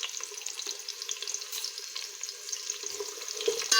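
Onions for veg biryani fry in a pan with a steady, close sizzle, and a spoon scrapes and stirs them now and then. No one speaks.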